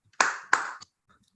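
Brief applause at the close of an international academic seminar, two sharp claps and a trailing third, close and dry, then silence.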